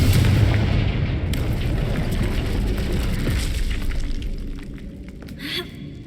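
A Confringo fire spell explodes in the game Hogwarts Legacy, a loud, deep booming blast with a rumbling, crackling tail that fades over several seconds, close and dominant.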